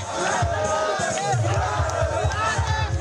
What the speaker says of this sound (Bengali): এদিকে ম্যাচ জয়ের পর টাইগার সমর্থকরা বাত ভাঙা উল্লাসে মাতেন